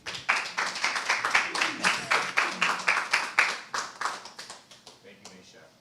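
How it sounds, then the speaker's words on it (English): An audience at a community conversation event claps in a brisk, even rhythm of separate hand claps. The clapping is steady at first, then thins and fades toward the end, with voices heard faintly underneath. "Let's give Meshach Alexis another round of applause"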